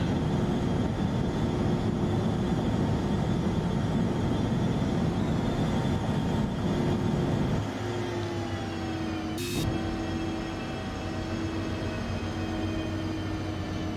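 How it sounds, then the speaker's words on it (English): A loud, constant drone of jet engines inside an aircraft cabin in X-Plane 11, heard from a seat near the engine, with steady hums and whines that shift slightly partway through. "It is noisy back here next to the engine."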